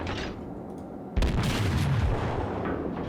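A battleship in World of Warships fires its main gun shells: a quiet rumbling lead-in, then a sudden heavy boom that rolls on as a loud, sustained low roar with no talking.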